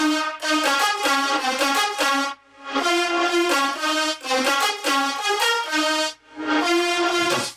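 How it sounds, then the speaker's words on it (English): Synth chords from an electronic dance track, their Valhalla Room reverb automated to swell up before each new note like a reverse reverb, giving the sound a sucked-in rise into loud, repeated sustained chords with brief gaps. "the reverb comes up before the next note hits"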